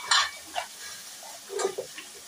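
Three medium onions, finely chopped, frying in a pan over medium-high heat; a soft sizzle with brief stirring scrapes and a few light clinks, close and fairly quiet, no talking.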